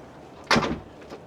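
A single close thud of a cupboard door swinging shut inside a 2025 caravan at a camping show, a brief sharp knock followed by a softer rattle as it settles.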